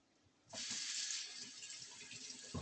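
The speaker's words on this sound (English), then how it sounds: "Wash my hands." A kitchen tap turns on with a sudden rush and then runs steadily as hands are washed, a close, even hiss of water with slight splashing variations.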